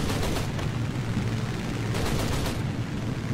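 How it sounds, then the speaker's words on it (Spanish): Aircraft machine guns fire in War Thunder as a dense, continuous rattling roar, a little muffled, that goes on without a break through the whole stretch. "Las armas se sobrecalientan, por lo que no puede estar disparando"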